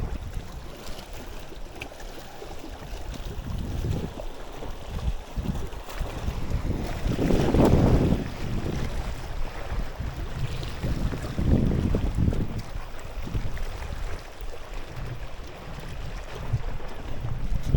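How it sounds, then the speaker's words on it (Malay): Strong wind blowing by the sea at a rocky shore during fishing, a steady rushing roar with gusts swelling louder in the middle, buffeting the microphone, and faint waves beneath it. "Disebabkan angin semakin kuat di bahagian sini"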